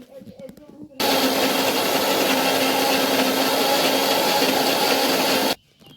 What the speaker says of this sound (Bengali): এখন আমি বড়ি দেব তার জন্য বেটে নিচ্ছি